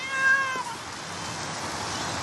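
A cat lets out one clear, drawn-out meow near the start, loud and close, and then the room falls to a quiet murmur of background noise.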